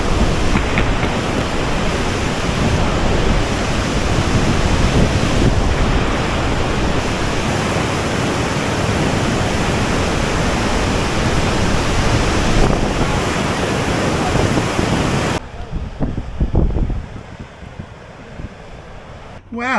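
Floodwater pours over a dam in the Derwent Valley, a loud, steady broadband roar that fills the scene for about fifteen seconds, then drops away to quieter rushing water with faint handling noises.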